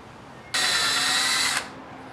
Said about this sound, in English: this will be fine for drilling it out